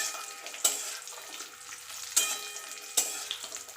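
Jujubes tossed into hot oil with tempering spices for jujube pickle, a soft continuous sizzle punctuated by three sharp, close stirring clatters, with no voices.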